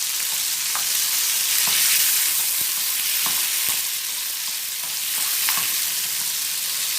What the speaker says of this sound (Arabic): انا معايا هنا طاسه على النار حطيت فيها زيت، وبعد كده هضيف لها الشطه الحمراء